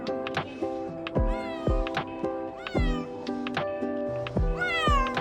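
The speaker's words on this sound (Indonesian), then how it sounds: "Wah, Ra, kucing. Ih, lucu banget." A small kitten in an animated cartoon meows repeatedly, giving about a dozen short, high, close cries in quick succession. Sharp thumps and plucked musical tones sound between the meows.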